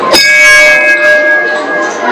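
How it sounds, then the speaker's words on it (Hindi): A temple bell at the Chamunda Devi Hindu temple in Dewas is struck once, giving a loud metallic clang that rings on with a long, steady, shimmering decay. "चलो अब बजाएंगे घंटी"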